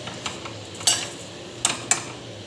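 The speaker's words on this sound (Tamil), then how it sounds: "மறுபடியும் நல்லா கலக்கலாம்." Mint leaves being stirred in a pan for chutney: a few sharp spoon-against-pan scrapes and clinks over a faint, steady background, spaced irregularly and close by, with no talking.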